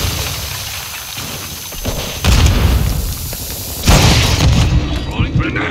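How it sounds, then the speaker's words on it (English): A grenade blows up in Call of Duty Modern Warfare 2 Hardpoint on Shoot House, two heavy booms over a constant din of gunfire and battle noise. "Grenade out!"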